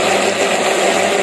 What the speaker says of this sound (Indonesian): itu langsung di blender saja